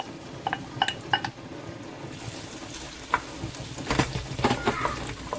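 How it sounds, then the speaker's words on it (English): Onion frying in a few spoonfuls of hot oil in a pan, a soft sizzle mixed with clinks and scrapes of utensils against the pan, irregular knocks throughout, no talking. "So now I'm gonna put 4-5 spoon of oil. Now I'm gonna put onion"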